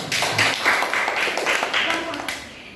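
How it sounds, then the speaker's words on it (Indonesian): A burst of scattered clapping from a classroom of students, brisk and fairly close, with voices mixed in. "Bagus, tepuk tangan."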